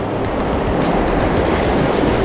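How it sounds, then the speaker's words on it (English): Storm-swollen ocean waves roll in on the incoming tide at Pass-A-Grille beach after Storm Debby, a loud, steady rushing surf that fills the whole clip. "the water's coming in pretty hard"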